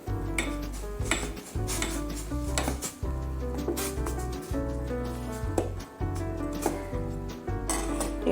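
Milk with cardamom powder stirred in a pot on a low flame, a spoon clinking and scraping against the metal in uneven bursts, close up with no talking.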